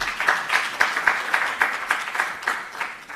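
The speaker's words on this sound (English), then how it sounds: "Please give him a round of applause." Conference audience applauding after a presentation, a steady patter of many hands clapping at moderate loudness for a few seconds, with no talking over it.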